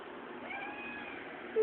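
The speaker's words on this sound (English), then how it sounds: "You're a playful little pussy cat." A single drawn-out meow from a playful black kitten, close and fairly clear, filling the short moment alone.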